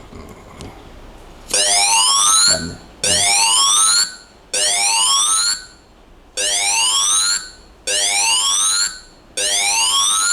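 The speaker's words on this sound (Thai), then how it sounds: "โอเคอันนี้เป็นเสียงไซเรนนะเดี๋ยวเรามองเสียงไซเรนออกไปเช็คเลย" An electronic sounder on a robot's light or flame sensor alarm blares a siren tone, six loud rising sweeps of about a second each, separated by short silent gaps.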